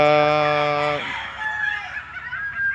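A rooster's loud, drawn-out crow cuts off abruptly, followed by softer clucking and chatter from nearby chickens.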